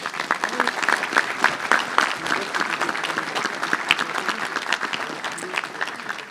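A seated audience at a mayor's New Year ceremony applauds a retiring hospital worker from Charleville-Mézières, with moderate, fairly even clapping and distinct individual claps standing out.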